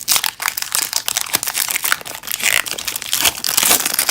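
Pokémon card booster pack from the Sun & Moon Duo de Choc series being torn open, a steady run of close, crisp foil crinkling and tearing with no talking.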